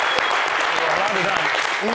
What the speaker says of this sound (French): Merci d'applaudir Néolo.